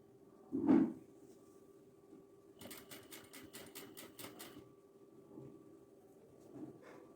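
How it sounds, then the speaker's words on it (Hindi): A sewing machine stitches along the side of a cotton kurti pocket in a short burst of rapid, even needle clatter. A thump comes first, and the machine sounds fairly close in a quiet room. "अब इसके साइडों पे यहाँ पे किनारे पे स्टिचिंग लगाऊंगी"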